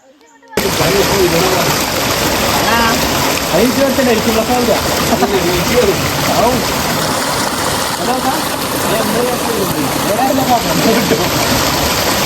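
An off-road vehicle plunges through water on a rough off-road trail, raising a loud, continuous rush and splash that starts abruptly and holds steady, with a faint engine drone beneath the churning water.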